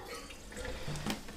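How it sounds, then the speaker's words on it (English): Water carrying a matted clog of hair is poured into a bathroom sink, giving a brief close splash and trickle. "Right, so I'm going to pour this in the sink."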